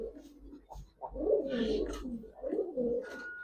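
Giribaz and racer pigeons coo in soft, repeated throaty phrases, close by and fairly quiet, with a faint low hum underneath.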